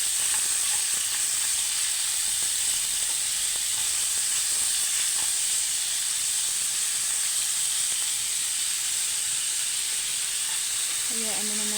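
Steak bites fry in a pan with a loud, constant high-pitched sizzle and steamy hiss that holds steady the whole time, faint clicks scattered throughout and a brief tonal sound at the very end.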